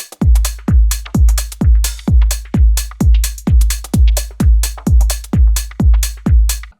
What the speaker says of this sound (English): So all the hats with the kick sounds like this.